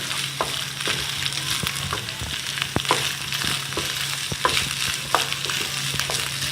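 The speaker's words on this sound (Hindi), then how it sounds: "अब मैं साथ ही इसमें ये कीमा भी ऐड कर दूँगी ताकि ये साथ ही इसके प्याज के साथ फ्राई हो जाए" Minced keema frying with onions in a little oil for macaroni samosa filling, a dense continuous sizzle close by, broken by light stirring taps and scrapes.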